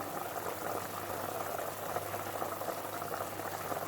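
Water boiling hard in a pot for rice-stuffed vine leaves, a steady dense bubbling roar close by that stays even throughout, with no talking.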